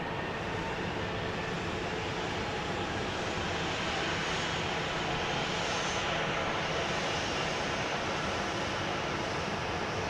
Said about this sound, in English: This will be a 737-700, arriving on runway 13 left.